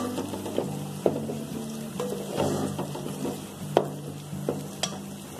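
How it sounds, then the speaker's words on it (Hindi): Ginger and garlic frying in a pan for koftas, a steady sizzle broken by repeated scraping and knocking of a spoon stirring against the pan, close and with no talking. "अदरक लहसुन फ्राई हो चुका है प्रॉपर तरीके से"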